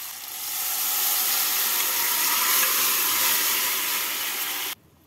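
Boiled pigeon pea dal, for a bottle gourd dal, drops into hot oil with tomatoes and sets off a loud, steady steamy sizzle that lasts several seconds, then stops abruptly.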